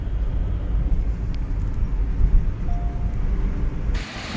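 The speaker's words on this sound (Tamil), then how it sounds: "ஃபுல்லாக நைஸாக இருக்கும் சைலண்ட்டாக போகலாம் ஒரு மாதிரி ஒரு டயர் சவுண்டே மாறும் இந்த ரோட்டில் போனால்" Vehicle tyres roll on a smooth concrete road in Karnataka with a steady, loud low rumble and road hiss that continues evenly before cutting off near the end.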